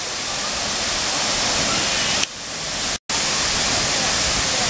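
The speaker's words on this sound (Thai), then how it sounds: "ตอนนี้เข้าอยู่ในน้ำตกแล้วเห็นไหม" Khun Korn waterfall roars as a loud, continuous broadband rush of falling water heard from up close, with a brief dip and a very short dropout partway through.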